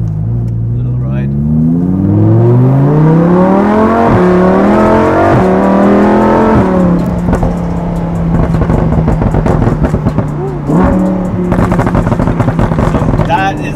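A Nardo grey Lamborghini Huracan accelerates hard, its engine note climbing loud and close through several gear changes with brief drops at each shift, then holding a steady drone before pulling again.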